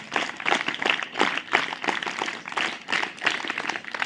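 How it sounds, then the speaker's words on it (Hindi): A crowd claps hands in a fast, even rhythm, many sharp claps packed close together and loud, continuing steadily with no voices on top. "Hands up, clap go."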